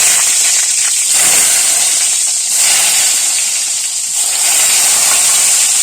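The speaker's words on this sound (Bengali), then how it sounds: "এবার দেখুন বেগুন ভাজাগুলো ছেড়ে দেবো" Slices of eggplant fry in hot oil for begun bhaja, giving off a loud, steady sizzling hiss that continues throughout with slight swells and dips.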